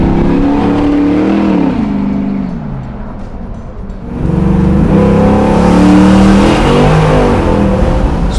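A 1966 Chevelle restomod with a 600-horsepower cammed LS V8 on a Roadster Shop chassis pulls away, its loud, deep engine rising, easing off briefly, then surging again with a heavy rumble.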